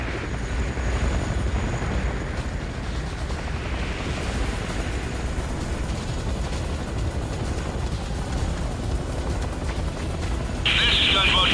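Enemy aircraft in the Command & Conquer Renegade video game, a dense, continuous rumbling engine drone with a low roar throughout and a brief hissing burst at the end, with speech present.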